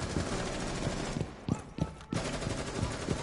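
Rapid automatic gunfire with recoil in Rainbow Six Siege, a dense stream of close shots with short gaps and a few louder bursts, played loud and continuous.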